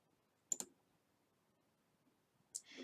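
Two sharp computer mouse clicks, one near the start and one near the end, quiet and close, with near silence between them during Photoshop editing.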